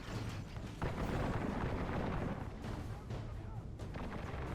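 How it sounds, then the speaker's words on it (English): Rolling volleys of musket fire from Janissary musketeers and arquebusiers crackle and boom continuously during a siege battle in Medieval 2 Total War, dense overlapping shots with a sharp louder crack near the start. "All those Janissary musketeers are still shooting."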